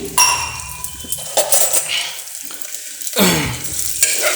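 Curry leaves and moong dal go into hot ghee in a pan, giving a steady sizzle and frying hiss with scraping and clinking of a utensil stirring against the cookware, close and moderately loud.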